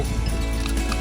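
Bullocks' hooves pound rapidly and close by amid loud crowd noise at a bullock cart race, animals running at speed.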